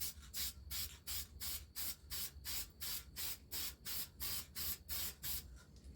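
An aerosol can of filter oil hisses in a steady series of short spray bursts onto an air filter, about two per second, close and even, with no voices.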